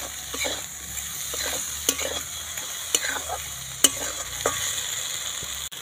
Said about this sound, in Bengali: দিয়ে আরও একবার ভালো করে নাড়াচাড়া করে নেব।